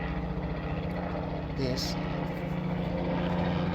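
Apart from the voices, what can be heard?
airplane passing overhead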